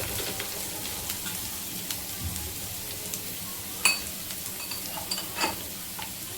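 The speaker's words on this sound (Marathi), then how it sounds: "तर बऱ्यापैकी आपला तेल तापल्याने टाकलाय तो कांदा बघा. कांदा टाकलाय आणि हे कोथिंबीर," Onion, coriander and curry leaves sizzling in hot oil, a steady close hiss with occasional stirring scrapes and a couple of louder clinks, no one speaking.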